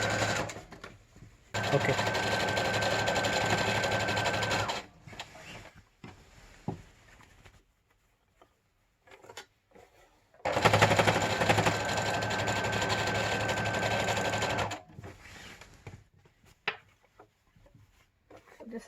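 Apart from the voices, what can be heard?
sewing machine stitching seams of a PPE surgical gown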